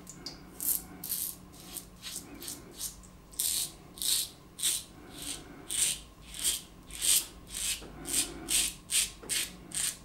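A razor shaving facial hair on a budget shave, with rhythmic scratchy strokes repeating in short bursts, close to the microphone and with no talking.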